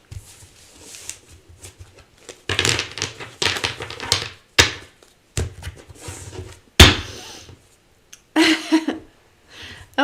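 Card shuffles come in several separate bursts, crisp riffling flutters with short silences between them, close to the listener, from a half deck of cards.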